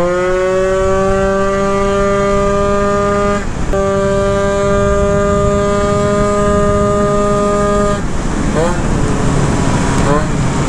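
A Derbi GP1 scooter with a 94cc Malossi engine and a weakly engaging clutch screams at 80 mph. The high, steady harmonic whine briefly dips near the start, then wavers in pitch toward the end.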